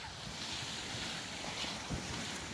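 Strong ocean waves at high tide wash onto a beach at Lobo, Batangas in a continuous loud rushing surf, mixed with wind noise.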